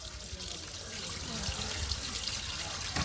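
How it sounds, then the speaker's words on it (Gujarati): Water runs from a tap as hands are rinsed at a primary school handwashing event, a steady close splashing flow that grows slightly louder toward the end. "પાણીથી ધોતી વખતે પણ આપણે જેમ સાબુથી ધોઈએ છીએ તેમ જ હાથ ધોવાના છે"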